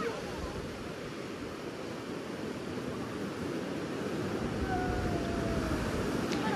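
Ocean surf at the Daepo Jusangjeolli basalt cliffs on Jeju Island, South Korea, makes a steady, loud wash of breaking waves with wind noise over the microphone, continuous throughout.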